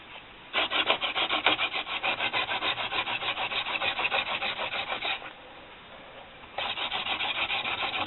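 A wooden spindle is spun with a two-stick hand drill on a soft baseboard fireboard, giving a rhythmic, close rubbing and grinding in two long runs split by a brief pause.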